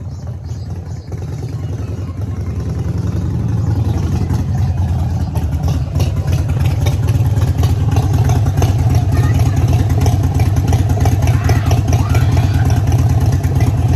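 A motorbike engine runs close and loud, its low droning rumble building over the first seconds and holding a steady, throaty tone with some rattling texture.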